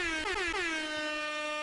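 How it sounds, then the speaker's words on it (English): A loud air horn sound effect blasts in a quick stuttering burst of three or four short honks, then settles into one sustained tone that fades slightly toward the end. "I love the air horn"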